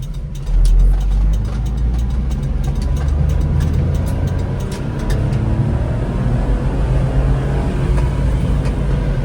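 Kei truck engine pulling hard in third gear under full throttle, a loud low droning roar with mechanical whine, steady and close throughout, heard from inside the small truck.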